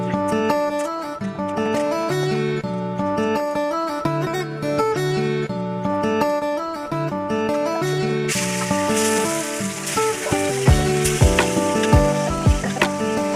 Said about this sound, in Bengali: দেখো এঠে মাছ ভাজা